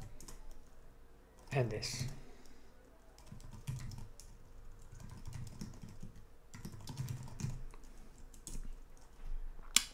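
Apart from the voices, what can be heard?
typing code on a computer keyboard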